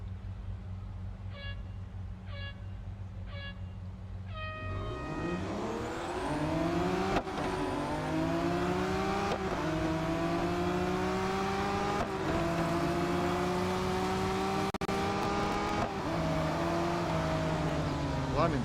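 Race car engines roar and rev at the start of a five-lap Grand Prix circuit race around the Nürburgring in Real Racing 3, rising pitch sweeps from many cars after a short beeping countdown, loud and continuous with gear-change breaks.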